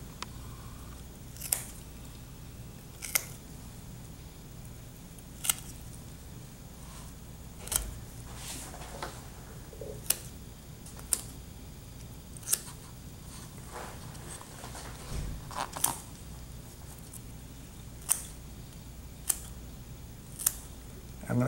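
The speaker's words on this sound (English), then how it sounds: "I'm going to cut a little slot there so I can get rid of excess liquid." Dissection scissors snip through a fetal pig in a lab setting, giving about a dozen sharp, isolated clicks spread at irregular intervals over a quiet background.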